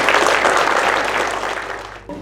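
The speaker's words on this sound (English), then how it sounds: "I think we can give them a round of applause." Audience clapping at a seniors' memories project closing ceremony, a loud, dense round of applause that fades slightly before a voice comes in at the very end.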